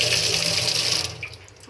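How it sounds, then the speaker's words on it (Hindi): Tap water running into a clogged kitchen sink that keeps filling, a steady close rushing flow that softens slightly near the end. "ये देखें, सिंक के अंदर ही भरता जा रहा है"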